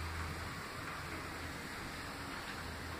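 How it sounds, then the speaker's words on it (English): Heavy rain falling outside, a steady, even hiss of downpour that stays moderately quiet and unbroken throughout, with no voices over it. "it's raining pretty decently hard"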